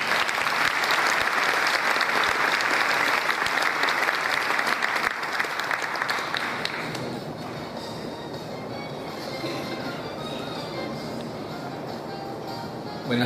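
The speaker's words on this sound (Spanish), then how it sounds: "Pido por favor un aplauso grande al rabino Tzvi Rupplat." Big audience applause for a rabbi at an event on being Jewish in the twenty-first century, loud dense clapping for several seconds that thins out into scattered claps and room murmur.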